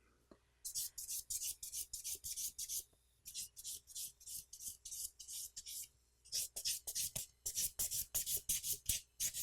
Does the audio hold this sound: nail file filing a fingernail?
yes